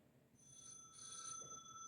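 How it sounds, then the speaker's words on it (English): A telephone rings in a quiet home, its electronic tone faint and steady through the short stretch, with no one speaking. "I'm going to pause while my husband answers his phone call"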